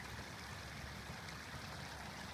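Runoff from heavy rain rushes through a culvert under a driveway beside a large oak tree, making a dense, even, continuous watery roar at low level with no talking.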